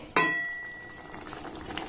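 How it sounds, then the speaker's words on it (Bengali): A pan of capsicum and tomato gravy simmers with a soft, steady bubbling after one sharp clink of a spoon against the pan, and faint stirring scrapes follow near the end. "এইভাবে একটু নাড়াচাড়া করে কষে নিলেই হবে।"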